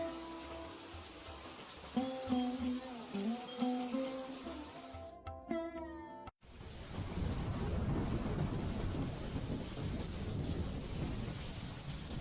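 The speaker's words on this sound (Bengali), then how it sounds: "আজ খুব বৃষ্টি নামছে" Heavy rain pours down with thunder, a loud, dense roar that takes over after a short tonal passage and a brief silence, then stays steady to the end.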